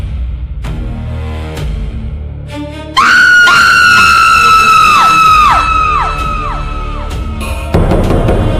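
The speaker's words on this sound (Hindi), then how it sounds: "उसने एक भयानक चीख मारी।" In a horror story, a loud, harsh scream sound effect bursts in with layered, wavering shrieking tones that rise, hold and fall away in several overlapping voices, following quieter moaning cries and ending in noisy rumble.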